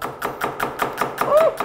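Knife chopping onion and other vegetables on a board for a vegetable soup, with steady evenly spaced thuds about five times a second, close and moderately loud, and no talk.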